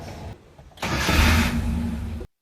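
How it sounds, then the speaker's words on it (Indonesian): A Suzuki Carry 1000 with the F10A engine cranks briefly, then catches and roars into a loud, close, rough idle with a slight rev before cutting off abruptly. "sekarang kita coba nyalakan mesin ya. Mesin F10A punya Suzuki, sang legenda."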